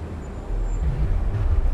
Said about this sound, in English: I crashed the truck